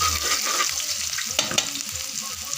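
Garlic, onion and ginger sauté in hot oil as the base for Filipino adobo, a steady close sizzle with a couple of sharp stirring clinks partway through, no talking.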